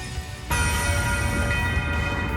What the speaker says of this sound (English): Resound! Nocturne Bell!